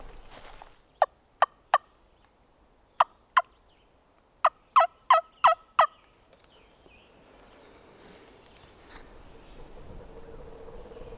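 A wild turkey gobbles in Alabama woods during late season, about ten sharp, loud calls in quick bursts over several seconds, then quiet woodland ambience.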